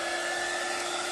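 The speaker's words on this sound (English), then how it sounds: "I do have a tool that I love and I use it all the time. And it is a heat gun." A heat gun blows steadily to dry paint on an art journal page, a continuous close airy whoosh with a faint hum, loud and unbroken for about a second with no talk.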